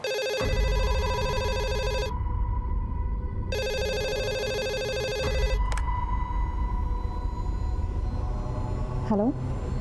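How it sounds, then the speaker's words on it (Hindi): Telephone ringing loudly and repeatedly in electronic bursts, with a short pause between rings, nearby and prominent, then cut off near the end. "दिन रात फोन बजते रहता है उसका"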